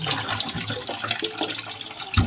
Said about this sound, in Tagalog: So, ugas-ugasan muna natin yan hanggang maging malinis.